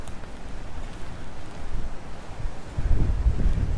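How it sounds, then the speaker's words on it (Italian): Strong wind on the shore of Lake Garda at Desenzano on a rainy day: low, gusty buffeting roar rising toward the end, with faint lapping water beneath. "qua c'è molto vento, è sempre la zona più ventosa"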